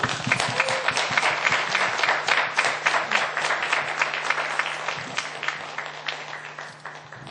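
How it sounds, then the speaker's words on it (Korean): Audience at a book concert applauding a professor's arrival, dense sustained clapping from many hands that holds steady for several seconds and slowly tapers, with a faint low hum beneath. "박수 부탁드릴게요"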